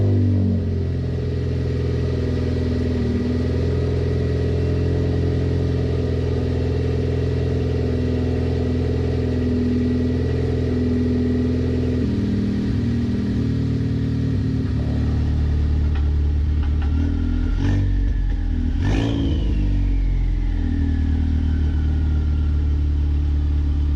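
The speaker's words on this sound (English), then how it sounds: "you guys will be able to hear the turbo spool" A car with an open exhaust cutout idles with a loud, deep, steady drone at night, then a few light blips near the end bring a rising whistle of turbo spool over the rumble.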